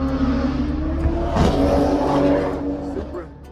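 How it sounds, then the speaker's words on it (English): Completely stock BMW M3 driving and accelerating, its engine droning and rising from inside the car, with voices talking over it before the sound fades toward the end. "we just got a ride in the M3, and this was completely stock"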